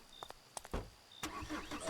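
A car engine starts in the video game The Scarlet Harvest, with short clicks and whirs followed by a louder cranking surge into a rough idle, fairly quiet overall.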